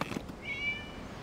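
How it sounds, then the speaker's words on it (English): A single cat meows in the video game Genshin Impact, a soft, drawn-out mew heard alone over a quiet background. "It was just a cat."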